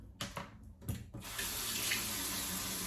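Water from a tap splashes into a sink, with a few short bursts first, then a steady, fairly quiet stream that runs without pause.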